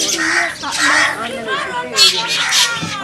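Crows caw repeatedly and loudly close by in a village yard where bread is being thrown to the birds, several harsh calls overlapping, with faint human chatter underneath.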